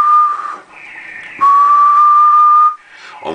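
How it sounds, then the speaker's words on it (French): A single sustained whistle goes into the microphone of a radio transmitter under test, a clear steady tone that dips, shifts pitch, then holds loud and even before cutting off. "Alors voyons un petit peu sur un coup de sifflet."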